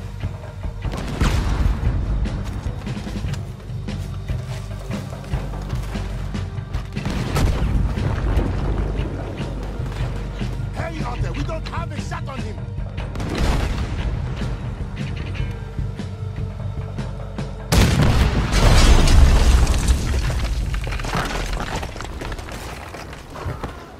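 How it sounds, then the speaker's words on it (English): Cannon fire and explosions during a ship battle in the video game Red Dead Redemption 2: several heavy, booming blasts spaced a few seconds apart over rumbling background noise, with a loud closing burst. "There's another cannon up ahead on our left."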